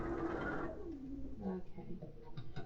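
Sewing machine stitching a quilt block, a soft mechanical whirr heard close and quietly, with a voice murmuring over it.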